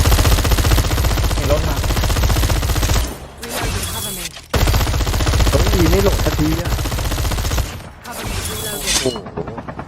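Loud, sustained bursts of rapid gunfire in Call of Duty Mobile battle royale, broken by two short pauses, with explosions and action sounds underneath.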